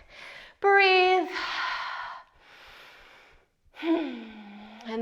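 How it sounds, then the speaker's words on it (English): Deep inhales and exhales during a guided chest-opening stretch in a HIIT strength workout, several loud breath bursts with short pauses, some voiced like gasps and sighs. "Take a big breath up with me. Big breath out."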